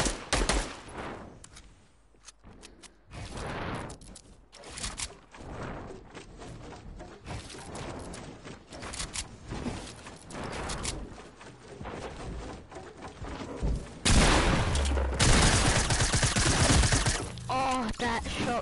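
Shotgun and other gunfire in a video game match, loud repeated blasts scattered through a busy stretch of game noise, with a heavy roaring burst near the end.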